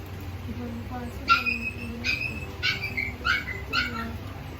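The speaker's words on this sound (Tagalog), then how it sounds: "At yun naman po yung mga doggy naming mga pasaway. Nag-iingay na po sila ngayon." Several pet dogs bark and whimper in short repeated bursts at a household, heard at moderate distance over a steady low background hum.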